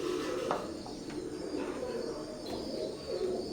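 Domestic pigeons, Teddy 128 and KTM Teddy birds, coo softly and steadily in a loft, a low continuous murmur with a few faint clicks and no talk.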